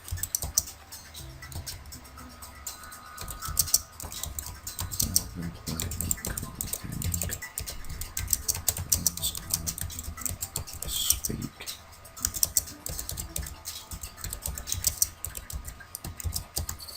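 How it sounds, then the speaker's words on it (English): Typing on a computer keyboard while playing Robocraft, a steady, fairly quiet patter of key clicks running throughout, with faint background sound underneath. "I can't see what I am typing."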